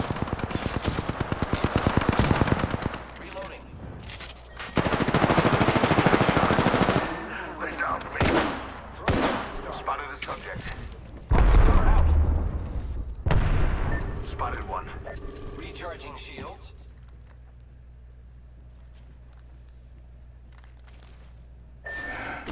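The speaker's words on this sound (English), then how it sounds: "The enemies are shooting at me." Enemy gunfire in a Lifeline match, with bursts of rapid shots and heavy impacts during the first half, tapering to quieter sporadic sounds while a player speaks over the action.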